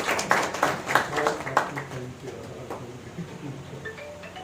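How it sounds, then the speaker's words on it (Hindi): An audience at a Hindi poetry collection launch claps for Umakant ji in a quick, rhythmic patter that fades after a couple of seconds into a soft background murmur, fairly faint and partly under talk. "ऐसे उमाकांत जी के लिए एक जोरदार तालियां तो पूरी हो जाएगी।"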